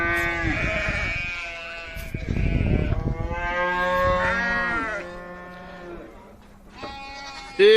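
Animals at a livestock bazaar call out in long, drawn-out moos and bleats, several overlapping near and loud, with crowd noise and faint talk behind them.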